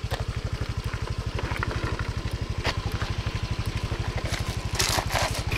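A motorbike idles steadily nearby on a route in Chang Khan, Loei, Thailand, its fast even engine pulse running throughout with light outdoor background noise and no talk.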